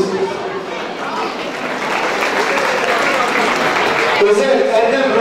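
Applause from guests in a municipal wedding hall in Besni, a loud close burst of clapping mixed with crowd chatter and voices throughout.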